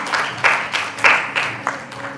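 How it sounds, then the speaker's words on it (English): Sparse, scattered clapping from a small audience at a Mother's Day event, a handful of separate claps spaced unevenly over about two seconds. "Big round of applause to the Bangalore team"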